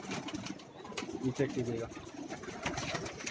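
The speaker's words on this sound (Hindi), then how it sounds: "कबूतर अभी दाना खा रहे हैं" Ferozpuri pigeons coo softly in a short, low burst while feeding on a rooftop in Karachi, with a brief flutter of wings; someone speaks briefly over them.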